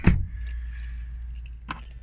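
Two short chime tones sound inside a Honda as a keyless access fob is brought back into the vehicle, the first at the start and the second near the end, over a low steady interior hum.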